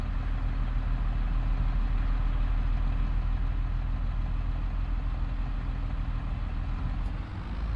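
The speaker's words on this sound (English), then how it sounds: "Oh, there's a nice rumble there. Listen to that engine." Deep, steady diesel engine rumble of a John Deere tractor in Farming Simulator 22, idling at an even pace, loud and close, with a brief dip near the end.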